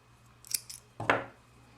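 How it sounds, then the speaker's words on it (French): Scissors cut crochet yarn close up: two small metallic snips, then a sharper louder cut, in a quiet room with no talk. "Je vais couper le fil."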